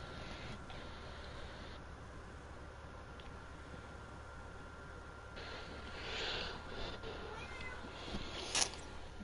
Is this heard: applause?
no